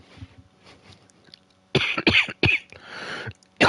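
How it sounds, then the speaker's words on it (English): A person with a bad lingering cough hacks in several harsh, loud bursts close up, after softer breathy throat sounds at the start. "I still have a really bad cough"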